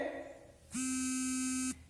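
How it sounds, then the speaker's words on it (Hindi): A phone rings during a Hindi-language physics lecture: one steady, buzzing electronic tone lasting about a second, loud against a quiet room with a brief murmur of voice before it. "किसी का फोन आ रहा है बार बार"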